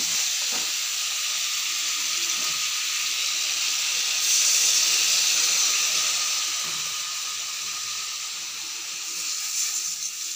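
Hot water hits a pan of simmering curry, raising a loud, steady hiss and sizzle of steam that swells midway and holds for several seconds before easing slightly.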